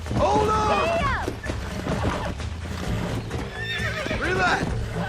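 A horse in the video game Red Dead Redemption gives loud, close whinnies at the start and end, with steady hoofbeats and game ambience beneath and a voice speaking over them.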